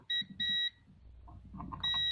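Multimeter continuity buzzer on a shorted phone capacitor, three loud, steady electronic beeps with low handling noise and faint tones in the gap between the second and third beep.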